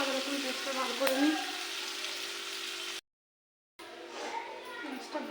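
Onions frying in a pan while rupchanda fish curry is prepared, a steady broadband sizzle with faint stirring, cut by a brief silent gap before the sizzling resumes.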